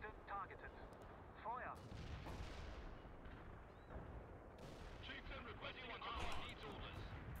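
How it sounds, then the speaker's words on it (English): Artillery fire in the World in Conflict real-time strategy video game, rumbling blasts and distant booms layered over battle noise and radio chatter, with someone speaking over the barrage. "How much artillery can I just stack onto this thing?"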